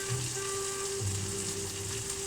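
Egg and prawn fried rice frying in a hot pan, a steady dense sizzle with soft crackle running throughout, close and even in loudness, with no talking.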